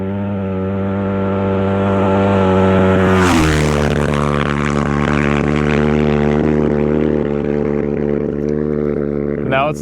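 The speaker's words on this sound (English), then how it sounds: "And one of the first motorcycles is already coming." A Dakar Rally motorcycle passes close by, its engine a loud sustained buzzing whine that swells and drops sharply in pitch as it goes past, then fades off into the distance.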